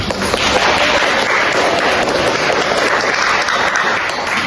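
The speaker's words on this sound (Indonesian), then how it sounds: "Kepi mendapatkan banyak tepuk tangan dari seluruh teman-temannya" Steady, dense applause from a crowd, loud and continuous for the whole stretch with no talking over it.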